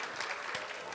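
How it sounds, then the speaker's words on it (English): Applause from an audience at a women's leadership forum, a dense, steady patter of hand claps that fills the whole moment at moderate loudness, with a faint voice mixed in. "That's a great hand clap."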